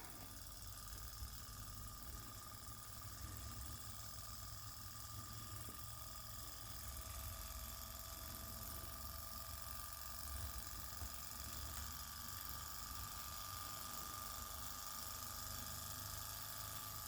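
An OKMO Microcosm JO6B miniature Stirling engine runs with a faint, steady mechanical whirr and fine ticking that holds evenly throughout.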